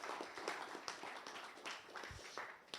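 An audience applauds at an AI and infrastructure conference, a faint, steady wash of many hands clapping through the whole clip, heard from a distance with no talk.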